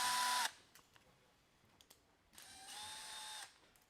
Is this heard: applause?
no